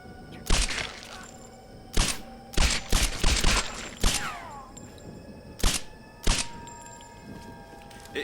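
Sharp gunshots in the video game Tomb Raider come as isolated, loud bursts spaced a second or two apart, some doubled or clustered, with ringing tails over a steady background drone.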